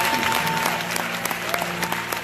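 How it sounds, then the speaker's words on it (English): A church congregation applauds a pastor with a sustained, dense round of clapping over faint sustained background music. "So give him a hand of applause."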